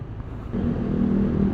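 A Yamaha R15 motorcycle passing on a road, a steady engine drone that swells after a quiet start and holds loud and close through the end, with no talk.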